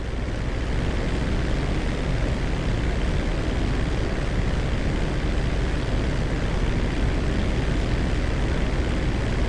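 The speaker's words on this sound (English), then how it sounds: "This is Captain T in a 1989 crop duster." Steady engine drone of a 1989 crop duster plane in GTA 5, a dense, unbroken roar holding at constant loudness with no talk over it.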